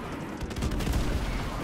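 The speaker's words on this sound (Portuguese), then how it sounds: "tá explodindo tudo, cara." Dense Call of Duty 4 gunfire and explosions crowd together in a continuous loud barrage, rapid shots layered over booming blasts with no pauses across the stretch.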